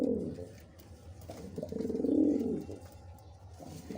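Male red-necked racing pigeon cooing nearby, a couple of low rolling coos with a louder swell in the middle, set against faint background noise.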